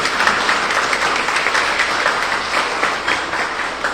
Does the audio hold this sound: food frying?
no